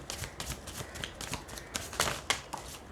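Tarot cards shuffled for a reading, a soft papery riffle of repeated rapid flicks and slides, close and fairly quiet, with no voices.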